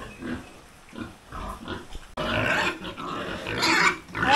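Farm pigs fighting over food squeal, grunt and snarl close by, starting in scattered bursts and then breaking into a louder, continuous scuffle of overlapping shrieks and growls.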